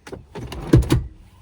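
Second-row seat of a 2025 Chevy Suburban High Country folding and flipping forward: a few close mechanical clunks and latch thuds in quick succession, the two strongest near the end, with no talk.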